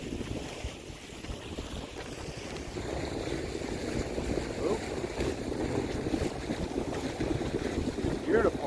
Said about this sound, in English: Beautiful sailing tonight.